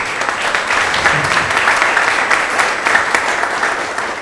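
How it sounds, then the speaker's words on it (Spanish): A church audience breaks into dense, sustained clapping that holds steady from start to finish with no talk over it. "Damos un aplauso al Betito."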